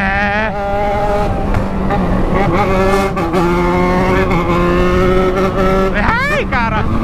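A Yamaha XJ6 motorcycle engine runs hard near the microphone, holding high revs with shifting pitch and a sharp rising sweep near the end, as people talk over it.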